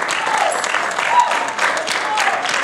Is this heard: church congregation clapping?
yes